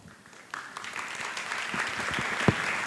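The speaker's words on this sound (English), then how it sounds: "Let's welcome Dr. Spitz to the stage with warm applause." Applause from a conference hall audience at a design forum welcomes a speaker to the stage. It starts soft and swells into steady, sustained clapping heard from a distance.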